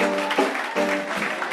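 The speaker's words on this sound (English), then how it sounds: "Please give him a round of applause." Audience applause at a primary school graduation ceremony, a steady patter of clapping from a crowd at moderate volume, with a faint tonal hum beneath, no voices speaking.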